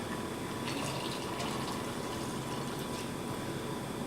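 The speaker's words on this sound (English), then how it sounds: "Now we're going to add our Maker's Mark bourbon. And I'll do 2 ounces." Maker's Mark bourbon being poured over ice for a cocktail, a steady, even trickle and splash that runs unbroken for about four seconds at moderate loudness.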